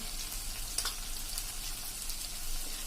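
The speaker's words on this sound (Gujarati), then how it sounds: "હવે આ મસાલા બધા આપણે 1 મિનિટ સાંતળી લેશું." Kashmiri red chilli, coriander powder and roasted cumin powder sauté in a pan for ragda, giving a continuous close sizzle with faint crackles and a brief stirring scrape.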